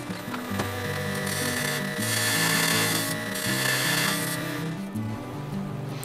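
Lathe turning a wooden bowl while the foot is trued up, a steady motor hum with the gouge scraping and cutting the spinning wood, swelling and easing in loudness throughout.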